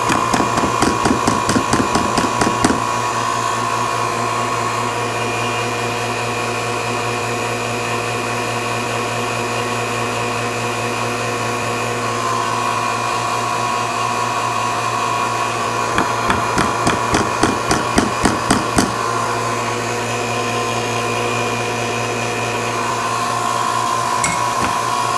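A vacuum pump runs steadily with a loud continuous hum while degassing an investment mold for lost wax casting, and rapid rattling, vibrating bursts come at the start and around the middle.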